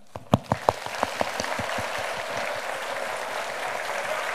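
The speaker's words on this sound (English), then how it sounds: "if we give him a big clap, he might just come on" A children's audience at a live birthday event for Winnie the Witch claps, starting with a few sharp separate claps that quickly blend into dense, sustained applause.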